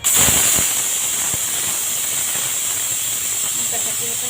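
Steam hisses steadily and loudly from a pressure cooker whistle, a constant high rushing sound with a few faint clicks early on and no voices.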